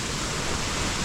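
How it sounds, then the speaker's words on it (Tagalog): Heavy rain pouring down on a small island near rough sea, a dense, loud, unbroken wash of noise with no pauses. "Taas pa rin ng ulan."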